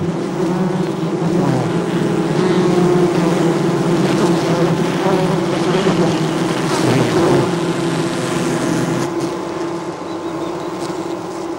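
A dense, droning buzz of many honeybees engulfing a giant hornet in a ball hums loudly and continuously, a thick layered swarm sound with no voices.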